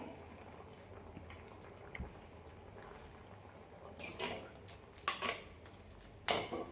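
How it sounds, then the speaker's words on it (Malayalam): A spoon stirring chicken curry in a cooking pot: quiet, sparse clinks at first, then a few sharper scraping clatters against the metal toward the end. "ഞാൻ എന്തായാലും ഇതൊന്ന് ഇളക്കി കൊടുക്കട്ടെ"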